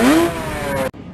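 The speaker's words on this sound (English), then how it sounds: "and motorcycle." Motorcycle engine revving up hard, a single loud rising whine that climbs and holds before cutting off abruptly near the end.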